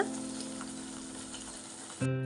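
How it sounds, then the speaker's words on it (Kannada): Masala frying gently in oil on a low flame for a curry leaf chitranna gojju, a steady close, even sizzle that shifts to a slightly louder tone near the end. "ನೀಟಾಗಿ ಲೋ ಫ್ಲೇಮಲ್ಲಿ ಇಟ್ಕೊಂಡು ನೀಟಾಗಿ ನಾವೀಗ ಬಾಡಿಸ್ಕೋಬೇಕು ಎಣ್ಣೆ ಮೇಲ್ಗಡೆ ತೇಲೋವರೆಗೂ"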